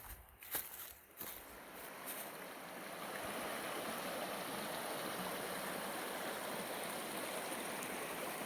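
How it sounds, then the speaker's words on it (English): Rushing stream water along a hiking trail, a steady broadband wash that grows fuller after a few seconds of scuffing and footsteps, then holds as a constant, moderately distant roar. "I can hear the water raging."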